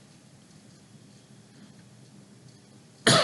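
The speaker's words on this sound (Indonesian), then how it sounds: "kalau saya sering batuk karena memang kondisi lagi kurang fit udah seminggu ini" A person who has been unwell for a week lets out one sudden, loud cough at the very end, after several seconds of quiet room noise.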